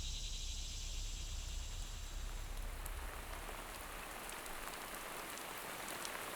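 Steady rain falls in a dense, even hiss of drops hitting surfaces, a continuous wash with no voices, staying uniform and moderately faint throughout.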